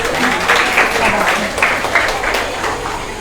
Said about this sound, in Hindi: जोर से ताली इसके लिए भी